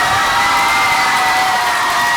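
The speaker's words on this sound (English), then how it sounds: "Let's hear one more round of applause for all of our May winners" A school crowd of children and adults cheers and claps for the student winners of the month, a loud, dense wash of shouting and applause that holds steady throughout.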